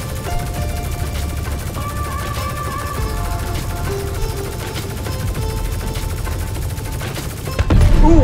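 Turret guns on a Drake Cutlass Steel ship in the space game Star Citizen fire in a loud, continuous, rapid stream, steady throughout and swelling slightly at the end.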